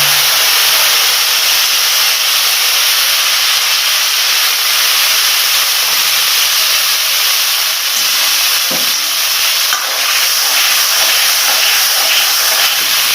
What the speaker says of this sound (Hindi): ये अब मैं इसके अंदर टमाटर की पेस्ट डालूंगा।